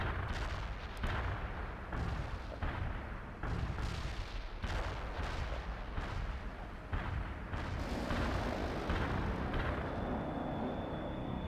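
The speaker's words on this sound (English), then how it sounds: "Artillery barrage inbound." Artillery barrage in the World in Conflict strategy game: a dense run of heavy booming blasts, one after another, loud and close, followed by a sustained rumbling roar with a faint high whine near the end.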